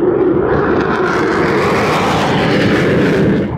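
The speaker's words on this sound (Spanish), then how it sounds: "son aviones, por ejemplo, para el transporte de órganos" A loud, steady roar of military aircraft engines flying low overhead at an army parade in Chile, broadband and unbroken throughout, with no voices.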